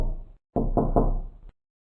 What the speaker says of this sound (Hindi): तभी अचानक घर के दरवाजे पर किसी ने दस्तक दी।